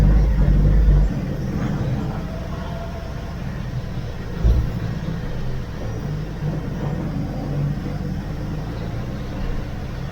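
A 1969 Chevy van, freshly revived after sitting 35 years, rolls across wet grass with a steady low engine rumble and a single heavier thump partway through.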